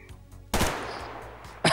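Gunfire rings out in a first-person multiplayer video game: a loud, sustained burst of rapid shots breaks out after a quiet moment and is followed by a second sharp burst at the very end.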